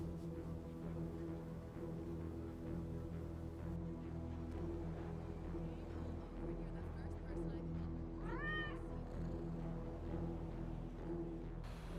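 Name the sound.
cat meowing in GTA Online video game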